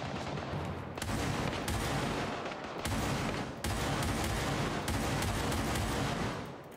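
Gunfire in the Gray Zone Warfare shooter, loud dense bursts of automatic shots in long stretches broken by brief pauses, close and continuous with no talk over it.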